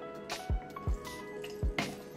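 Apple cider vinegar poured into a bottle during hair care, heard as a few quiet, separate drips and soft liquid splashes spaced about half a second apart.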